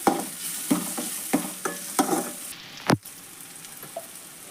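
Cauliflower seasoned with salt and garam masala fries in hot oil for a North Karnataka-style palya, a continuous sizzle broken by repeated stirring scrapes and one sharp clatter near the end, with no voices.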